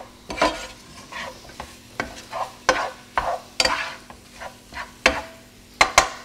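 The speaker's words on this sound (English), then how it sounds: "Give that a stir. Just about another 30 seconds. Just so it evens out in the pan." Egg omelet mixture stirred in a frying pan: a string of irregular scraping, clinking strokes of a utensil over a soft, steady sizzle, close and fairly loud, with no voices.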